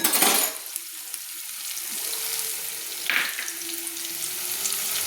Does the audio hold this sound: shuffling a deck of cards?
no